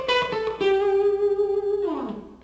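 Electric guitar runs a quick Mixolydian lick in G, sustained bright notes bending and sliding downward near the end, brief and fairly quiet, with no voices.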